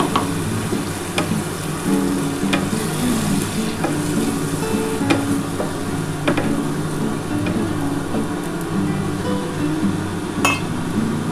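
Water is added to a pomfret fish and potato curry simmering in oil in a pan, giving a steady, close sizzle and bubbling with occasional clinks and scrapes of a stirring utensil, and no talking.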